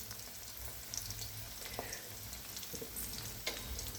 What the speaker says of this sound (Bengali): এই গরম তেলে ভাজা হচ্ছে।